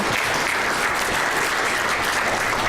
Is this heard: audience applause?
yes